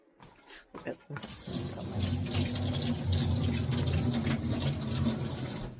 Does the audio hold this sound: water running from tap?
yes